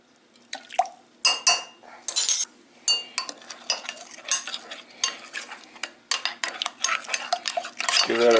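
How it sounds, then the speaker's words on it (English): A rice pudding mixture with cinnamon and vanilla stirred by hand, with close irregular spoon scrapes and light clinks against the bowl and nothing else in the background. "Give that a good stir."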